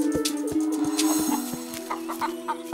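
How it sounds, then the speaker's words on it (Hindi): A group of loose chickens clucks close by in rapid, overlapping bursts, with higher squawks breaking through now and then. "ये मुर्गियाँ खुली क्यों हैं?"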